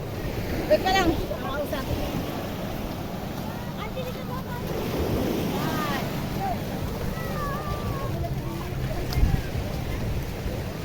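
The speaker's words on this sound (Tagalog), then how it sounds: "So mahangin guys." Steady wind gusts buffet the microphone on a small outrigger boat out on open water, a continuous broadband rush with waves lapping underneath and voices talking briefly over it.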